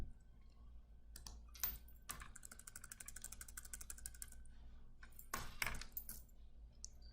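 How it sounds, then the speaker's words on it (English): Typing on a computer keyboard while filling in an online form, quiet bursts of clicking keystrokes in short irregular runs separated by brief pauses, close and alone. "Start typing in."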